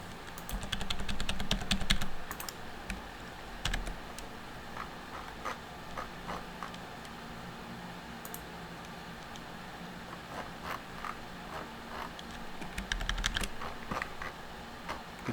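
Steady typing on a computer keyboard while coding a piano app in HTML, CSS and JavaScript, with quiet clicks throughout and denser, louder bursts near the start and end, and no talking.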